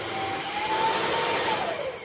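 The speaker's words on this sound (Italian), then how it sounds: "quando voi avete in funzione l'aspirapolvere" A Bissell CrossWave OmniForce cordless wet-dry vacuum cleaner runs with a steady, close, loud motor whine and airy rush, holding an even level throughout without any talking.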